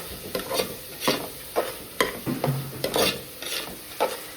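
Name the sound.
frying masala with garam masala and turmeric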